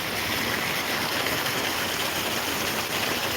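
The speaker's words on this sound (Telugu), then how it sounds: "ఒక మోస్తారు వర్షం పడుతోంది ఈ వర్షం వల్ల రైతులకు ఎలాంటి లాభం కలుగుతుంది" Moderate rain falls over the town of Kundurpi, a steady, dense hiss that stays even and unbroken from start to finish, with no voices.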